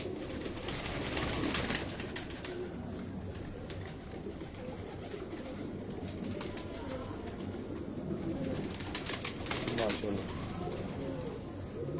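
Pigeons coo in a loft belonging to a pigeon fancier, low throaty calls running through the whole stretch under someone talking nearby.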